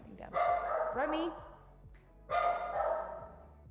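A dog barks indoors in a home kitchen, two close, loud bursts of barking separated by a brief pause, with a person's voice nearby.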